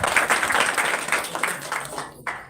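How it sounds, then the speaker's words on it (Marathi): Villagers clap together to welcome a guest during a village visit, dense continuous applause from a crowd that dips briefly near the end. "त्यांचं सर्वांनी टाळ्या वाजून स्वागत करावं"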